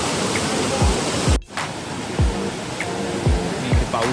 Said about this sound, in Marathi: इकडे आतमध्ये आहे गौरीकुंड आणि मंदाकिनी रिव्हर.